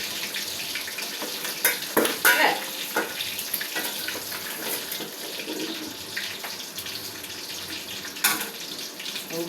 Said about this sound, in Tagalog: Gigira tayo ng mantika